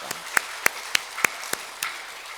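Sparse, slow clapping in a Korean Sunday church service, about six separate sharp claps spaced roughly evenly over two seconds and fairly close, rather than a full round of applause.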